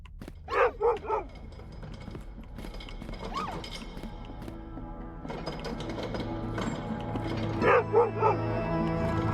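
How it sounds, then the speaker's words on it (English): Dogs bark in the video game Underkeep, quick bursts of several yips and barks near the start and again near the end, with softer whimpering and game ambience between. "Where do all these dogs come from?"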